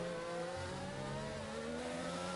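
A rally car engine drones steadily at mid pitch, held back and bogging under traction control on a stage in Portugal, with no clear rise in revs across the short stretch.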